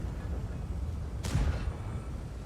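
A single loud, booming tank cannon shot in the video game World of Tanks bursts out over a low rumbling background, with a short decaying tail.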